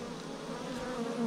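Honeybees inside a beehive deep box give a soft, steady, close buzzing hum that keeps going without a break.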